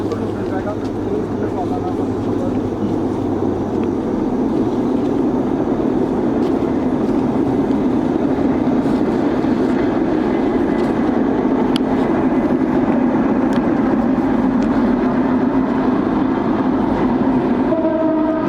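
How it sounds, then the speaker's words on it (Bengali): A train passes far off near a railway station late at night in a forest, a low, steady rumble that drones on throughout while people talk over it. "অনেক দূরে রেল স্টেশন এবং ট্রেন যাচ্ছে গভীর রাত ওই জন্য আওয়াজটা"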